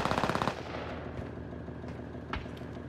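Rapid automatic gunfire from a battle royale video game, a loud burst of fast shots at the start followed by a few scattered single shots further off, with no talking.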